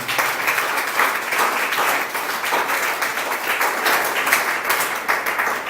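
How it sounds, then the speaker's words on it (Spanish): Congregation in a church clapping loudly for the Lord after the sermon, a dense, steady round of many hands filling the space with no talk over it. "Dale fuerte aplauso al Señor."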